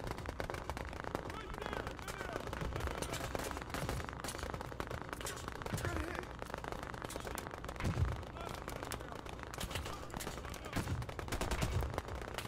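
Automatic light machine gun fire in the Omaha beach battle of the game Operation: Harsh Doorstop, with dense, continuous bursts and scattered shots throughout and a few heavier thumps, mixed with battle noise.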